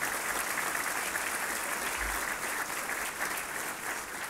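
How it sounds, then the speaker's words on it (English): Audience applause fills a dinner hall at a 2015 tribute dinner, a dense, steady wash of many hands clapping at even loudness for the whole stretch, with no voices over it. "Give yourselves a round of applause for being the USGLC."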